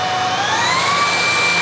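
A Proscenic P13 cordless stick vacuum cleaner runs steadily at power level 3 close by, a constant motor roar topped by a thin whine that slowly rises in pitch.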